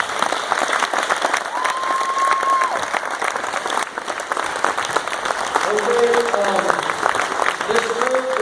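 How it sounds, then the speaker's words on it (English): A gym crowd applauds a senior boys basketball player at a team tribute, with steady, sustained clapping and some crowd voices mixed in throughout. "So I give him a round of applause."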